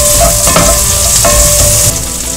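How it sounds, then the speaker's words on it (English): Cantonese sausages sautéing in a hot pan for Hokkien kiampong, with a loud, dense, continuous sizzle heard close up and a few faint utensil taps. "So sauté that and kind of like leave it alone for about a minute or so."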